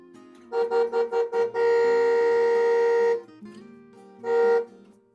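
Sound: car horns honking

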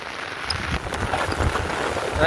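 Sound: heavy rain with wind over farm fields

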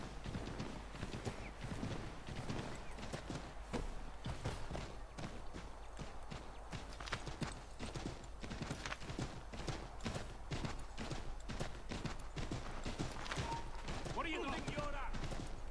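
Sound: horse hooves crossing river, video game Assassin's Creed III

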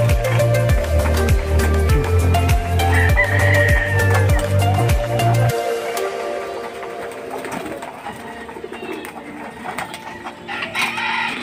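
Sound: gamecocks eating and clucking

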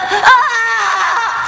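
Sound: woman screaming in pain in a film scene

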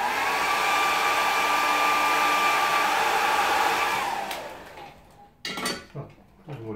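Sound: hair dryer drying a watercolour painting

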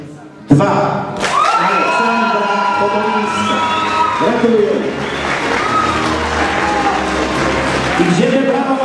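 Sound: audience applause at beauty pageant result announcement

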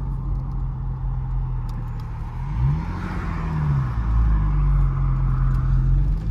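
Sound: 2013 Porsche 911 S exhaust burbles and pops

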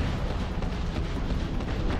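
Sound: spaceship weapon shot in the video game Starfield

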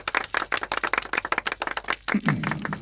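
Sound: audience applause

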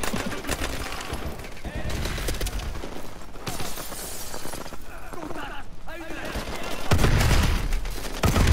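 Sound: gunfire from enemies in the video game Call of Duty: Advanced Warfare

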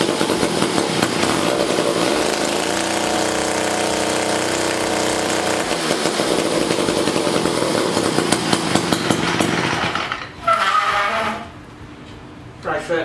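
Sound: 1956 Eclipse Wasp chainsaw starting and running at wide-open throttle

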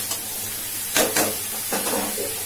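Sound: fish frying in oil

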